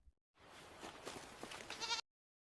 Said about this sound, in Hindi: तुम दोनों को एक एक बकरी दिया जाता है।